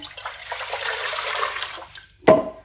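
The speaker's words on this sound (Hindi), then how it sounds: "यहाँ पे पतीली ली है, अब इसके अंदर पानी ऐड करेंगे।" Tap water runs steadily into a cooking pot for about two seconds, then stops with a short splash and clatter, close and moderately loud.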